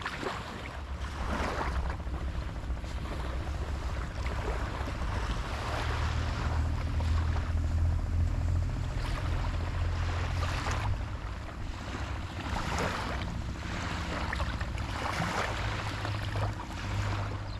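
Sea waves wash along the shore at Ilıca beach in Çeşme, İzmir, a steady rushing surf with rolling swells, mixed with gusty wind buffeting the microphone outdoors and no voices.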